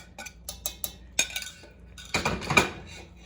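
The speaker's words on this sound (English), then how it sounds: "I just washed all the dishes that those vegetables were in." Dishes and cutlery clink and clatter softly while being washed in a home kitchen during beef noodle soup cooking, with a few scattered taps and then a busier cluster of ringing knocks near the end, no talking.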